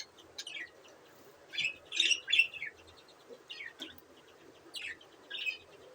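Budgerigars chirp in a breeding setup with eggs, giving short, bright tweets and warbles in irregular bursts, fairly close, with quiet gaps between calls and no talking.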